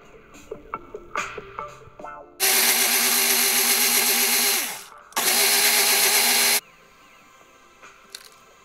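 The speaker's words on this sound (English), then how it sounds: "All the spices were put into the blender" A kitchen blender grinds spices for a cassava tempeh burger in two loud, steady whirring bursts, the first winding down before a short pause and the second cutting off abruptly.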